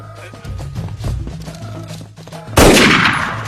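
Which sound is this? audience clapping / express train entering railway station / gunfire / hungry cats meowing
gunfire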